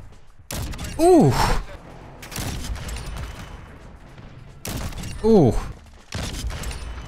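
Gunfire from a weapon in a video game rings out in a few sharp, loud bursts spaced across the moment, while a player's voice lets out drawn-out exclamations between the shots.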